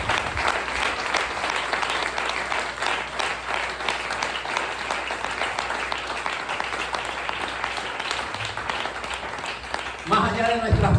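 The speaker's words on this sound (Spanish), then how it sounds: "Dele ese aplauso al Señor." A church congregation applauds during a Spanish-language sermon in Belén de Bajira, a steady, fairly loud wash of clapping for about ten seconds before a voice speaks at the end.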